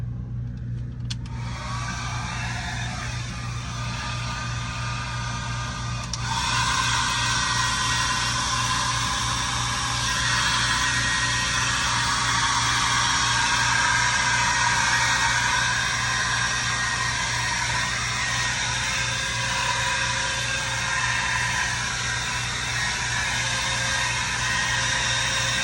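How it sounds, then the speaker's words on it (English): A regular handheld blow dryer runs on hair at the roots, a steady loud whooshing roar with a low motor hum that rises in intensity partway through and then holds constant without pause. "I have a regular blow dryer, and I'm gonna flip my head upside down and dry the root area"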